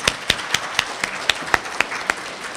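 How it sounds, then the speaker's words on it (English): An audience applauds students being honored as school Citizens of the Month, heard as a steady run of sharp, evenly spaced claps about four per second, fairly close and moderately loud with no talking. "Let's give you a round of applause."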